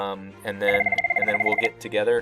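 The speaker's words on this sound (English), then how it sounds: "Sorry, that's the phone." Telephone ringing in an office setting: a steady run of rapid electronic ring pulses lasting about a second, close and clear, with someone talking before and after the ring.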